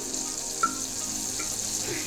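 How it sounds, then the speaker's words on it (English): Butter and anchovy sizzle in a hot pan while cooking anchovy butter for sirloin steak, giving a soft, steady frying hiss with a couple of faint pops and ticks. "there's nothing like the smell of like heating and sizzling butter"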